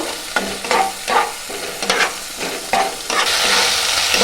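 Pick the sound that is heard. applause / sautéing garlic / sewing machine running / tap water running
sautéing garlic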